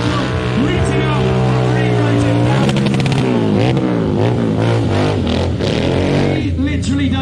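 A Royal Enfield motorbike, slightly adapted for tricks, revs hard during a stunt display at the Peterborough MCN motorbike festival, its engine surging and dipping in repeated loud throttle blips close by.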